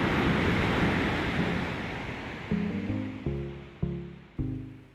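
Ocean surf washes steadily onto Biaung beach in Denpasar, Bali, a broad rushing roar that fades, then low tonal thuds and hums sound in short repeated bursts near the end.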